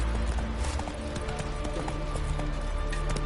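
A horse's hooves clip-clopping in The Witcher 3: Wild Hunt, a steady trotting rhythm of close hoof beats over a rumbling game soundscape.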